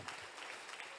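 A church congregation applauds continuously, a dense and steady wash of many hands clapping at a fairly low level throughout.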